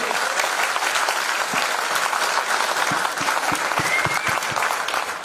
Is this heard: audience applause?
yes